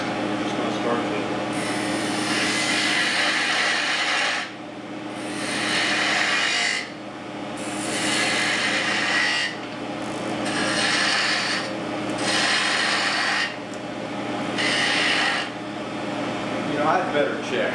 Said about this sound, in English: Change over to my spindle gouge for the detail work.